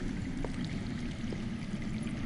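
Underground water flows in a fantasy video game, a faint, continuous low rushing and trickling that stays even throughout with no voices over it.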